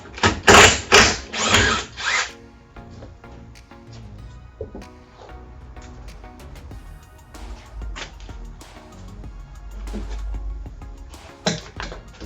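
13 mm bolts being undone to remove a cover on a 2004 VW Transporter T4: a loud burst of power-tool whirring at the start, then quieter metallic ratcheting clicks and mechanical rattles, close and without speech.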